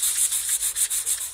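A bar of soap is sanded in steady back-and-forth strokes, a loud, close, rhythmic hiss that repeats about every fifth of a second with no voices.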